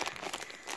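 Plastic packaging crinkling as a boxed Gemmy Christmas chihuahua novelty toy from 2006 is opened, a brief close rustle that runs steadily through the moment.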